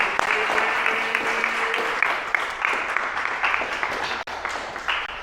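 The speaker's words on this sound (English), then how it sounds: "can we give a round of applause for the documentary?" An audience claps for a documentary screening at a small talk event, a fairly close, uneven round of applause with a brief voice tone early on, the clapping fading and pulsing before a short drop near the end.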